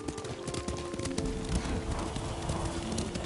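Horse hooves from riding in the video game Ghost of Tsushima, a steady run of overlapping clip-clop beats under game music and ambience, close and moderately loud.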